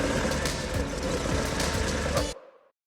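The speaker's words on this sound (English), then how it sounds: "it was time to fire Esther's engine back up, and she fired straight back into life." A Ford Escort ST170 Mk1 engine idles steadily and close by after being restarted, holding a constant low rumble before cutting off abruptly near the end.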